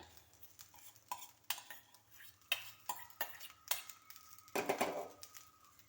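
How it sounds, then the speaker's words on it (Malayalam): Spoon stirring cooked rice into a carrot mixture in a pan, with irregular scraping and clinking strikes against the metal, close and fairly quiet, and no talking. "ഇനി നമ്മൾ വേവിച്ചിട്ട ചോറ് ചേർത്ത് ഇളക്കാം"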